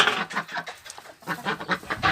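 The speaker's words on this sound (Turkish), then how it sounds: "Tavuklarını yemleyeceğim şimdi." Several chickens cluck and chatter close by in a lively, overlapping flock, with short bursts of calls coming in uneven waves.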